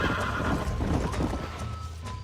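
Horses in the Western video game Red Dead Redemption neigh loudly close by over a busy patter of hooves clip-clopping, with a low rumble underneath.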